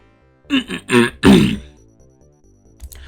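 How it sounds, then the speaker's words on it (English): A man clears his throat several times in quick succession, a few loud rough bursts close by, followed by quiet and a faint click, with no talk. "apologies if I keep coughing"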